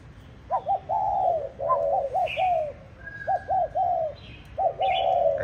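A spotted dove decoy bird coos in several repeated phrases, each a short run of soft, rounded notes separated by brief pauses, clear and close with a faint, higher chirp in the background and no talk.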